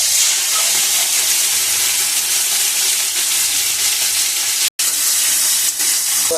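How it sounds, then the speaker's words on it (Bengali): Tomatoes frying in hot oil in a wok make a loud, continuous hissing sizzle up close, broken by one brief drop-out. "গরম হয়ে গেছে, এবার টমেটো দেওয়া হবে।"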